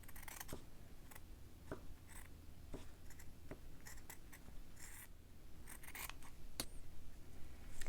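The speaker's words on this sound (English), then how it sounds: "I'm just going to flip it over and trim it down." Scissors snip around a stitched fabric Christmas tree being trimmed, a series of quiet, sharp cuts at an irregular pace, close up and alone, with no talk.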